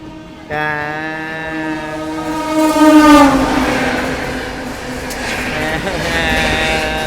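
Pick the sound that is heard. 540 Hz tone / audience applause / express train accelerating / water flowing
express train accelerating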